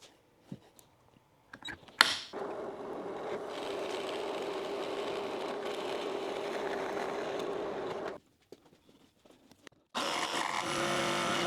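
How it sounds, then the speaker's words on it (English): A power drill turns a Forstner bit into wood, starting with a few clicks and knocks and then grinding steadily and close for about six seconds before stopping; another steady whir follows near the end. "I will be using a Forstner bit and make the circle first, then I will make the rest of the slot"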